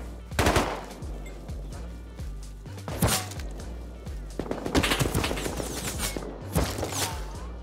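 Gunfire in the survival game Rust, fired through a silencer, as repeated bursts of muffled shots with sharp transients across the clip, loud and close, with no talk over it.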